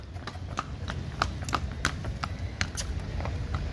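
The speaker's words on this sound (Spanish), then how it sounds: "¿Qué tal se siente montar a caballo?" Horse hooves clip-clop steadily at a walking pace during a ride through a historic town in Honduras, the close, crisp strikes repeating in an even rhythm over faint outdoor background.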